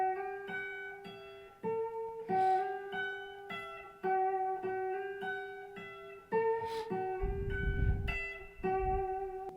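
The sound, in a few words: guitar riff from a song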